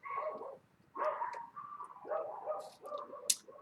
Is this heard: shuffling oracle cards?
no